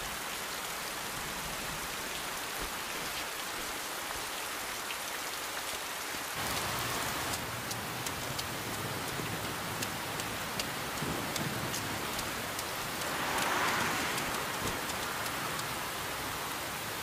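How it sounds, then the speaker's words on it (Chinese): Sudden steady rainfall patters densely on surfaces, a continuous hiss that thickens partway through and swells again briefly, with no voices. "怎么突然下雨了呢？"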